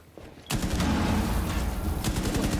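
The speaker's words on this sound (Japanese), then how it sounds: "フラッシュバンを投げる。" A flashbang grenade is thrown during a round of Rainbow Six Siege, giving a sudden loud burst that sets off a dense roar of gunfire-like noise, sustained and close, with no talk.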